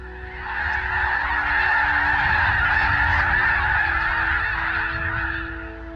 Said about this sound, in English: Those are snow geese, snows and blues, and the blue is a color phase of the snow goose.